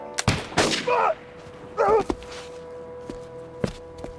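A volley of musket fire on command in a period naval drama: a few sharp cracks spread across the moment, with brief gaps and some scuffing noises between them, no voices.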